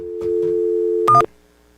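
A telephone line test produces a steady electronic tone for about a second, ending in a short louder burst of mixed tones before cutting out to quiet hiss.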